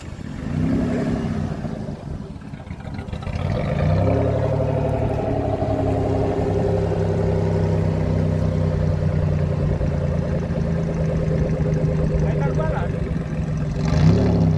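A hot rod engine in Kenya idles and rises through low throaty revs, a deep rumbling drone that swells and holds, with people talking over it near the start.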